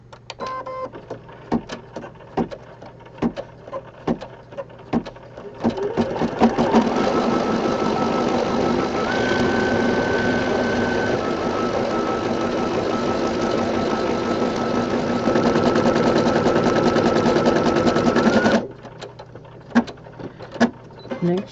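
An embroidery machine stitches with yellow thread in a loud, steady mechanical whir lasting about twelve seconds, framed by quieter intermittent clicks before and after.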